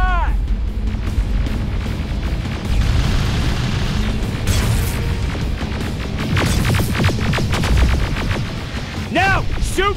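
Booming rocket explosions burst repeatedly during chaotic combat in the video game Terminator: Resistance, loud and close, layered over continuous battle noise with a few sharp higher blasts.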